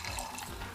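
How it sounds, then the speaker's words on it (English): Sweet and sour mix pours from a bottle over a margarita, a short, steady liquid trickle heard close up with no one talking. "So let's pour some sweet and sour on there."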